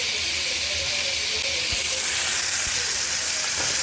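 Ginger and garlic sizzle in hot oil in a pan, a steady, close, dense hiss that holds unbroken throughout, with a couple of faint low knocks.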